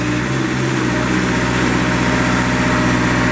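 A 2002 Moffett M5000 truck-mounted forklift engine runs steadily at close range, a loud, continuous mechanical drone with an even idle-like rumble and no speech.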